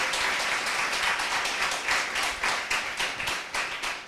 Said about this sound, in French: Je vous prie d'applaudir Serge Joannou qui est là